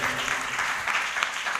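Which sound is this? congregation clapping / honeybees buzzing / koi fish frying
congregation clapping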